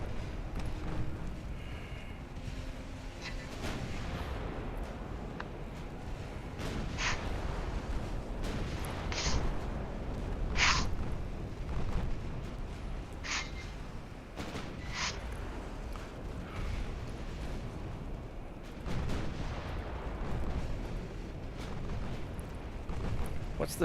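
Naval guns from warships in Ultimate Admiral Dreadnoughts fire on destroyers. Several sharp, spaced reports cut through a steady rumbling battle ambience, with talk heard faintly beneath.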